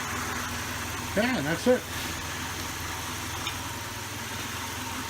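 A Chevy Cavalier's engine idles steadily just after start-up following a transmission install, a low continuous rumble with a brief louder rev, and a voice speaks briefly over it.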